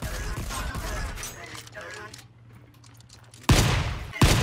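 Turret gunfire in the Volcanoids survival game, heard as bursts of rapid shots with heavy hits near the end, while a voice talks over the firing.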